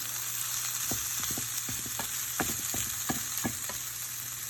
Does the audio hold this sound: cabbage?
yes